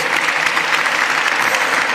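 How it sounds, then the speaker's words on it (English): An audience at a Philadelphia announcement for America's 250th anniversary celebrations claps loudly for the city representative, a close, dense, continuous burst of applause with no talking. "Let's give our city representative, the best city representative, a real big round of applause."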